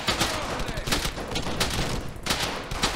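Gunfire from the Brothers in Arms: Hell's Highway video game, with loud, close bursts of shots and sharp cracks crowding together in an irregular volley over a continuous background rumble.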